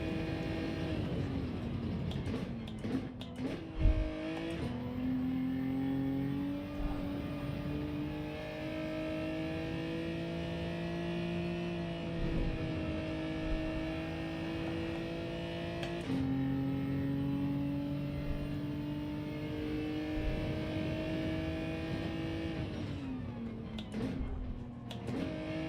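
A race car engine in the video game Gran Turismo revs hard through repeated gear changes, the droning whine climbing in pitch, dropping at each shift and climbing again, loud and sustained throughout.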